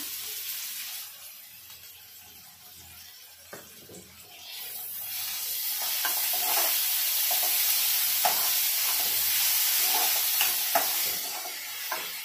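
Onion and tomato sizzle and fry in a pan for a home-style bean curry, with a steady hiss and occasional stirring scrapes, close and fairly loud.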